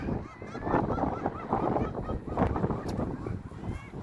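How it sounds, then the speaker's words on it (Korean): Seagulls call noisily near a seaside breakwater where someone is fishing, with repeated harsh cries overlapping in a busy chorus over a windy, washing background. "갈매기만 시끄럽네."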